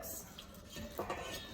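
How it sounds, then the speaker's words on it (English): A whisk or spoon clatters against a bowl as milk and vanilla are vigorously mixed into pastry cream. The rapid metallic scraping and knocking is close and fairly quiet, with a faint voice behind it. "So I just start mixing before it even hits."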